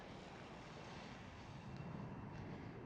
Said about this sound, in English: KLM's Cityhopper E190 is taking off right above us